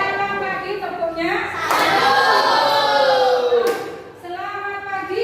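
A group claps along in a classroom-style greeting clap game, a dense burst of hand claps lasting a couple of seconds between stretches of spoken chanting.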